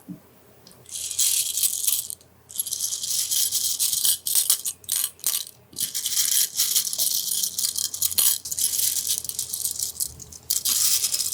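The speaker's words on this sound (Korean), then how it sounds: "글을 써볼게요" A pen scratches across paper close to the mic, in short bursts of writing strokes broken by brief pauses, crisp and intimate in a quiet ASMR setting.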